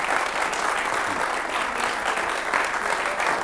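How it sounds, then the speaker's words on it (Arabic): Studio audience applause welcoming a civil protection lieutenant guest on a children's television program, a steady dense wash of clapping that stays loud and even throughout. "تصفيق عليه."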